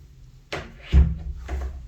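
A built-in bedroom wardrobe door with soft-close closers in a Premier Tower apartment slides with a quick rush, then settles with a soft low thump and a lighter follow-up movement, close and clear in a quiet room.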